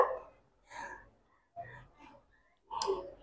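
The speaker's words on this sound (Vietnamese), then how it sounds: "Con này cũng sủa nè" A dog gives several separate short barks with pauses between them, at close range and moderately loud, and there is no speech.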